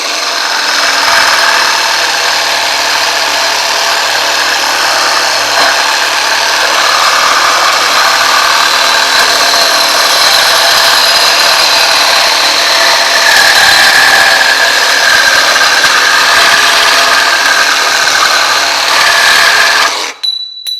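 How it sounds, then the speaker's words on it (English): A GardenJoy 21-volt cordless reciprocating saw cuts through galvanized pipe, a loud, steady buzzing whine running continuously for about twenty seconds before stopping abruptly at the end. "working with galvanized pipe, if you're running conduit or anything like that, you will often use a reciprocating saw"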